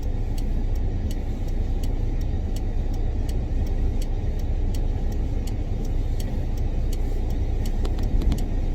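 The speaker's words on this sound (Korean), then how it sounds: "2020년식 1톤 벙커3 킹캡 후장축 차량 시운전하고 있습니다" A 2020 Kia Bongo 3 King Cab one-ton automatic truck on a test drive gives a steady low engine and road rumble from inside the cab, with a faint regular ticking like a turn signal running throughout.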